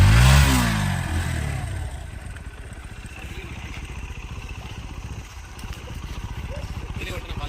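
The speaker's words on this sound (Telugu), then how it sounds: "ఎగ్జాస్ట్ సౌండ్ వినొచ్చు. అండర్ బెల్ ఎగ్జాస్ట్ ఇది." Bajaj Pulsar NS125 motorcycle idling through its underbelly exhaust, a steady close low thrum of rapid even pulses after a brief louder blip at the start.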